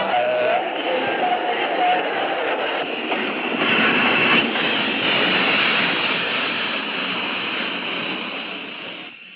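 A passenger train rumbles steadily along the tracks, a loud continuous roar with faint wheel clatter that eases slightly toward the end.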